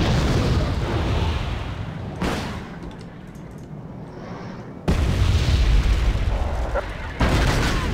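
Heavy explosions from BTRs being destroyed in Wargame Airland Battle: loud, deep booming blasts with rumbling tails, one burst near the start and a sharper double blast later, close and dominant.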